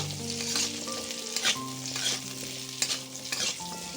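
Pumpkin pieces with vegetables fry in oil in a pan, a steady sizzle broken by repeated scraping stirs of a spatula against the metal, with a faint tonal hum underneath.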